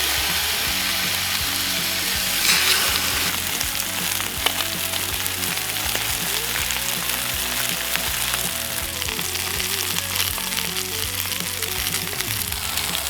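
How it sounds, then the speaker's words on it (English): Steaks sizzle and fry in olive oil in a pan, a loud, continuous close-up crackle with scattered pops and spatters throughout. "Now we're gonna drop our steaks in."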